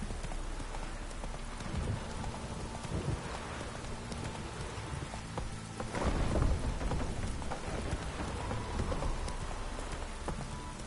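Steady rain in The Witcher 3 game world, with the clip-clop of a horse's hooves walking through it, soft and continuous, swelling slightly midway, with no talking.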